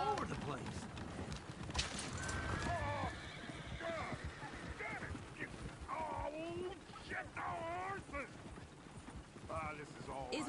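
Horse whinnying and hooves clip-clopping in Red Dead Redemption 2, faint and mixed among game ambience, wind and character voices, with uneven hoof beats throughout.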